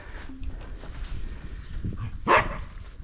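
Puppies on a farm let out a single short, loud bark near the end over faint outdoor background noise and low murmurs.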